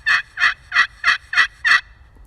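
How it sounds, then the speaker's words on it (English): Six evenly spaced, raspy hen yelps from a slate turkey call played with small ovals, loud and close, each short note separated by brief pauses. "just to do a hen call, I just like to do little ovals"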